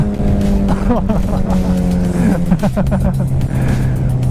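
A 2008 Suzuki Hayabusa motorcycle accelerating under throttle, engine tone climbing steadily and loud with wind rush, a faint voice underneath.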